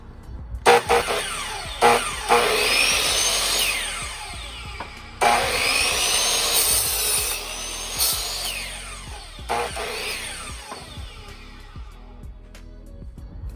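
Saw cutting wood, several loud rasping bursts with short gaps, each fading out, growing quieter toward the end, heard close with no speech.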